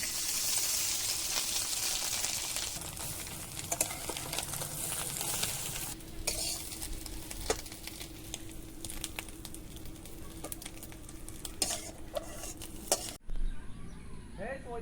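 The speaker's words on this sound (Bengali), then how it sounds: "মাছের বড়াটা আমি এবারে ভেজে নিচ্ছি" Fish fritters fry in hot oil, giving a long, even, close sizzle with scattered small pops and spits that hold steady throughout.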